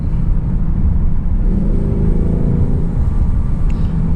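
A 2024 Mustang GT with the 5.0 V8 rumbles along a back road, its exhaust note dropping and blipping in a short downshift, steady and close from inside the car.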